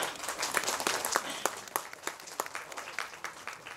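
At a film audio launch event, an audience claps in a steady, moderately distant patter, with no voices on top.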